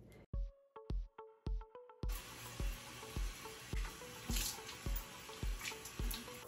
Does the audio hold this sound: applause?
no